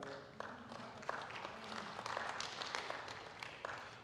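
A congregation claps during a church sermon, the applause fairly soft and distant, with scattered sharper claps over a low murmur.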